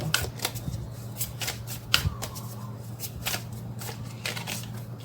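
Tarot cards being shuffled by hand, a run of crisp riffling flicks and soft slides in a quiet room with a faint steady hum beneath, no talking.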